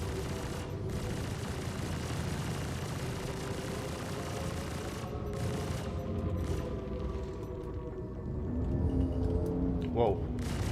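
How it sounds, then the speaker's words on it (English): Ship gunfire in the space game Star Citizen, a dense continuous barrage of shots and booms sustained throughout, with engine hum underneath and a brief rise in intensity near the end. "Okay, thank you for blocking the shots."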